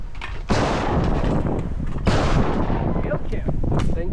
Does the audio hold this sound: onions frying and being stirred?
no